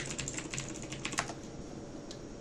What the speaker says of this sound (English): and then you want to type in grub